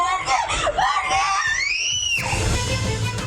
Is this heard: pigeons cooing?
no